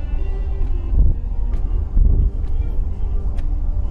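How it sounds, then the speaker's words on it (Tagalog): Wind buffets the microphone during a group bike ride along Al Raha Beach, a loud low rumble with gusty swells and no clear voices. "mahangin pa rin"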